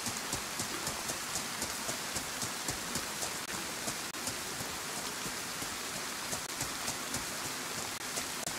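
Rain pours in DayZ's Chernarus on Xbox, a constant close hiss of drops with faint repeated ticks running through it, and no one speaks.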